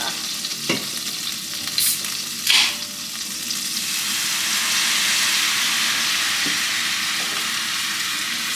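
A roux of flour, butter and cider being stirred in a pan, with a few knocks of the spoon and then a swelling, steady sizzle and bubble, close and fairly loud.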